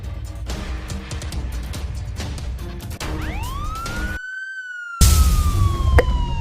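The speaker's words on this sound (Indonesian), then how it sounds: "Itu suara sirine mobil polisi." A police car siren from the video game Sakura School Simulator wails in rising and falling sweeps, loud and close, over background game noise, cutting out briefly before returning louder.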